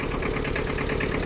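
A rear-wheel-drive mini tractor with a three-point hitch idles close by, its engine running steady and even with a continuous, regular mechanical pulse and no voices.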